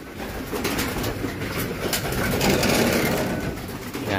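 Many pigeons coo together inside a loft, a dense, continuous murmur of overlapping coos and wing flutters close by, loud and busy throughout.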